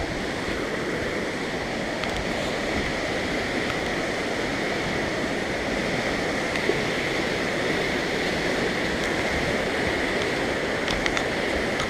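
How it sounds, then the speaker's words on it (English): The Bad River gushes at Copper Falls near Red Granite Falls, a steady, loud, broadband roar of rushing water that holds constant throughout with no voices. "And here's the gushing water here of the Bad River."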